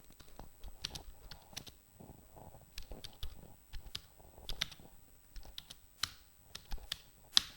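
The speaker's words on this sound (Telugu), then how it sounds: "నేను టైప్ చేస్తాను చూడండి" A keyword typed on a computer keyboard, with quiet, close key clicks coming in uneven bursts and short pauses.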